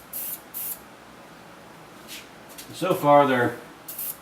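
Short hissing bursts from a spray gun lay down a third coat of Duracoat finish, the sprays coming near and clear at the start and end, with a person speaking briefly in between.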